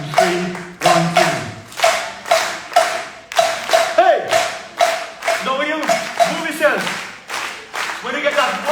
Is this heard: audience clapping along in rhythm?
yes